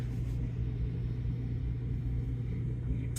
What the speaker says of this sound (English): it's just so hard doing these on the bus.